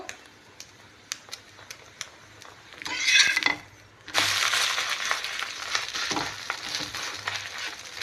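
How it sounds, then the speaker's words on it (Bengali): An egg roll frying in a pan: after a few light clicks and a brief rustling burst, a steady, fairly loud broadband sizzle starts about halfway through and runs to the end. "আমি ভালো করে সেঁকে নেব একটু ভালো করে ভাজবো"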